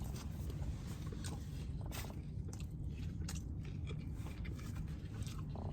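Someone chews Philadelphia pizza up close, soft repeated bites and wet mastication with occasional crunchy crust clicks over faint background hiss.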